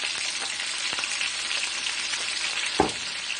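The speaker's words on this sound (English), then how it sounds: "Now I allow this oxtail to get some color on both sides." Oxtail searing in a pan, a constant close sizzle with light stirring taps and one sharper knock near the end, no talking.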